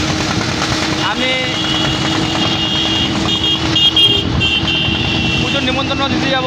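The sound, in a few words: motorcycle engine while riding own bike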